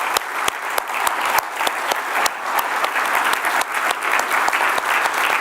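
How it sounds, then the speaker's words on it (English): Audience applause closing a cardiac arrest symposium in Scotland, steady dense clapping from a large crowd with a few sharper individual claps standing out, sustained throughout. "join me in applauding their effort"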